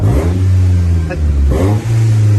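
A 2016 Nissan Teana engine, suspected of clogged fuel injectors and accelerating poorly, revs in short surges over a loud, steady idle drone, heard close up.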